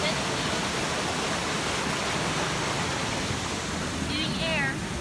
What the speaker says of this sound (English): We are at Bukitwabi Waterfall.